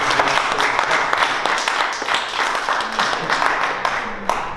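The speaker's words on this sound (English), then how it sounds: "Please say a big applause for" A crowd applauding steadily, dense clapping throughout with a few louder individual claps near the end.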